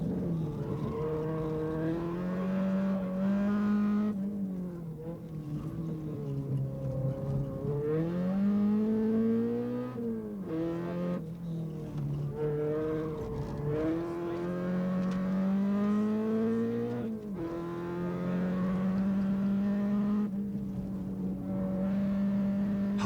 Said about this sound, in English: we join Glyn Hall and Martin Botha in their Golf GTI